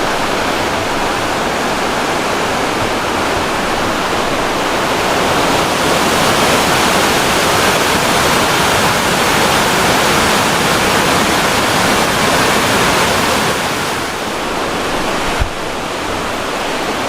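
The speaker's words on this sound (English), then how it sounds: "there's an overlook that goes to where you can look at the waterfall instead of being above the waterfall" A waterfall in Yellowstone/Teton National Park roars in a loud, unbroken broadband rush that stays constant from start to finish, heard up close with no talking.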